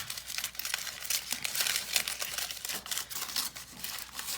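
Aluminum foil crumpled by hand close to the microphone, a steady run of crisp crackling and crinkling bursts with no talking.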